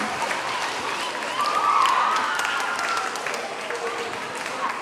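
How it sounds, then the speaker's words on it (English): Students and staff at an elementary school assembly applaud a group of sixth graders, a moderate, somewhat distant patter of clapping that swells briefly in the middle while a faint voice sounds over it. "Let's give these 6th graders a round of applause."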